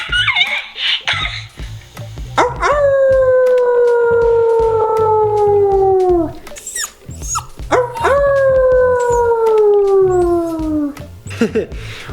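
A dog howls in two long, sustained, wavering rounds, each howl sliding slowly downward in pitch. The howls are loud and close, with a short gap between them and faint background noise.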